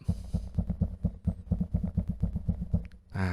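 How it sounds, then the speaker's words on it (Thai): Quick series of low, thudding knocks on a wooden microphone arm above a Presonus PD70 shock mount, steady and rapid for about three seconds, ending with a short rustle. "ตอนนี้ผมจะเคาะที่ ตรงขาจับไม้ด้านบนตรงนี้นะครับ"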